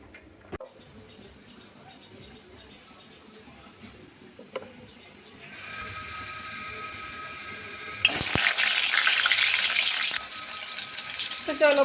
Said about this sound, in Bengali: প্রথমে এ দেখো পটলটা ভাজতে আরম্ভ করলাম